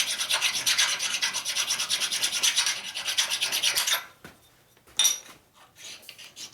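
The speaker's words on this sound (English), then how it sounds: "This is a honing stone. So you hone with this and make sure there's no sharp edges on anything." Honing stone rubbed back and forth along edges of a 1947 Harley EL knucklehead 74ci motor part, rapid rhythmic rasping strokes close up for about four seconds, then a few short scrapes after a pause.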